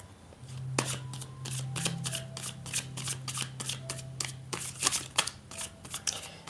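Tarot cards being shuffled by hand, a rapid series of crisp riffling snaps and slaps repeating steadily and close by, with a faint low hum running underneath.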